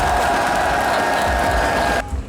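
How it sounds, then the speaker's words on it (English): A large European crowd at the Worlds 2023 play-ins draw show cheers and applauds loudly as a steady roar, then cuts off abruptly near the end. "The crowd is cheering."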